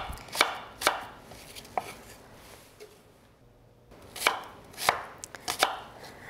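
A knife chopping an apple into small pieces on a cutting board: crisp, sharp taps in two short clusters, with a brief quiet gap between them, close and fairly soft.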